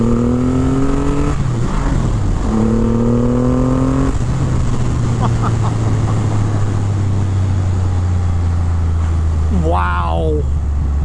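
A 2023 Triumph Rocket 3 R with its 2500 cc engine launches hard and accelerates loudly, its engine note climbing steadily through several gear changes.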